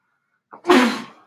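A single sharp sneeze, close and loud, with a short intake of breath just before it.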